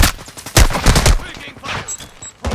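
Gunfire in Call of Duty Modern Warfare 2 DMZ PvP on Ashika Island, loud bursts of close automatic shots in clusters, trailing into quieter distant fire and a final burst.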